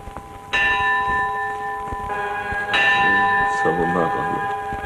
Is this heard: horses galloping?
no